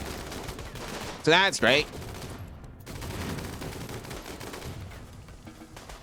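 Ship turrets in the video game Rimworld fire two quick, loud bursts close together, then fall away into quieter ambience while someone talks.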